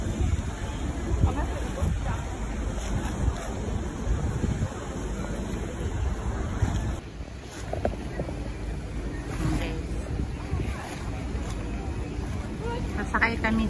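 A sightseeing boat's engine rumbles steadily around Sydney Harbour under wind and water noise, with people chatting nearby throughout.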